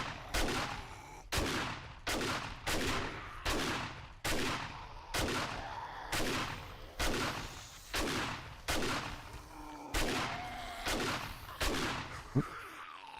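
A shotgun fires repeatedly in 7 Days To Die, about a dozen loud, booming blasts in a steady rhythm roughly one per second, each with a short decaying tail.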